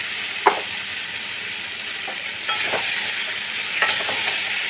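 Fried chicken pieces and fried potatoes being stirred through a thick cooked masala, a loud steady sizzle with three distinct scraping stirs spaced across the clip.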